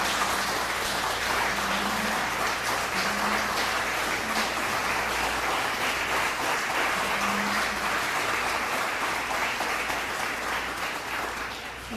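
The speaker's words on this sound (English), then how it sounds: "Let's give the recipients one more round of applause." An audience at a human rights celebration and awards ceremony gives award recipients a sustained round of applause, dense and steady clapping from a large room that fills the whole stretch and tapers slightly at the end.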